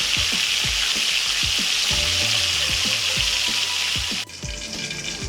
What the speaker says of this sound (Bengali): আমরা উভয় পাশ মোটামুটি একটু ভালোভাবে আমরা ভেজে নিব, খুব বেশি ভাজবো না।